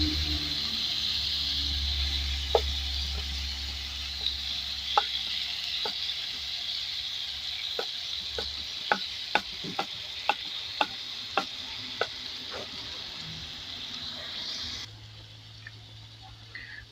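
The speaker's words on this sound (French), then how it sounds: "Je fais revenir l'oignon. Puis j'ajoute la tomate." Onion and tomato frying in a pan, a steady close sizzle with a series of sharp ticks and small pops, the hiss cutting off near the end.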